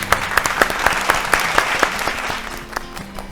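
Studio audience at a Bengali family game show claps in a steady, moderately loud burst of applause with sharp individual claps standing out, continuing for a few seconds without talk.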